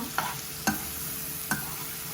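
Rupchanda fish being stir-fried with spices in a pan, giving a steady soft sizzle broken by three sharp scraping stirs of the spatula.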